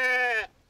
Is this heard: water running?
no